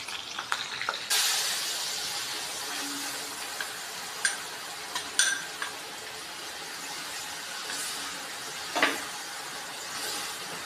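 Chicken pieces deep fry in a pan of oil while making chicken pickle, a soft continuous sizzle and hiss broken by a few sharp clinks and occasional brief scraping sounds.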